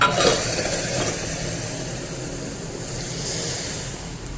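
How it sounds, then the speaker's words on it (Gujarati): A tempering of asafoetida, red chilli, cinnamon, salt and curry leaves sizzles in hot oil for spiced buttermilk, a close, rushing hiss that is loudest at the start and then settles into a steady crackle. "થઈ મસ્ત વઘાર."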